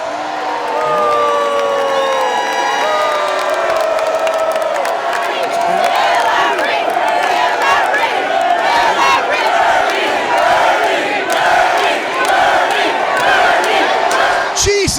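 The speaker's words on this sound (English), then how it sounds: "boos and then applause" Dense convention-floor crowd at the 2016 Democratic National Convention, loud and continuous for the whole stretch, with shouts, whoops and cheering and clapping folding into the roar; booing is not clearly separable.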